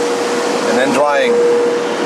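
Car wash dryer blowing air over a Tesla, a loud steady rushing roar with a brief whining tonal sweep partway through, continuous and close.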